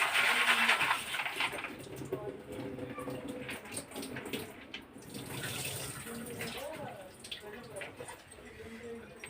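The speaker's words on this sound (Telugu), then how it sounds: "పాస్తానే బాగా బియ్యం కడుక్కున్నట్టు 2-3 సార్లు కడుక్కుందాం." Pasta being rinsed in water in a kitchen the way rice is washed, with running water and sloshing splashes continuing throughout, steady and fairly close, alone without talk.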